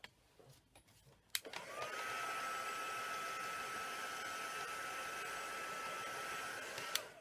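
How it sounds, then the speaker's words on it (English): A handheld heat dryer switches on with a click and blows a steady, even whir over freshly applied mixed media paint for about five seconds, then clicks off, after some faint handling noises. "Use a dryer."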